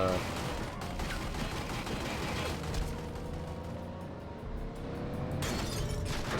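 Gunfire crackles through a shootout in The Godfather video game, dense and continuous under a heavy wash of game noise and engine rumble, with no clear pauses.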